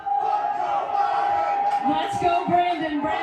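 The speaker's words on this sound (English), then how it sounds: "as you can hear the chants from the crowd" A large crowd chants rhythmically in unison, loud and sustained, while someone talks over it nearby.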